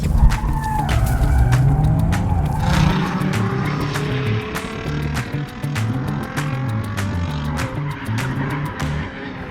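Lexus IS250 drifting, engine revving loudly up and down while the tires squeal and skid in long wavering tones, close and sustained across the run, with no talking.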